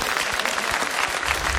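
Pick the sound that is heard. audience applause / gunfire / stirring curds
audience applause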